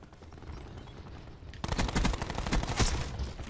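SMG gunfire in the video game Call of Duty Black Ops 4, a sudden rapid automatic burst after quieter game ambience, continuing loud and close with fast repeated shots.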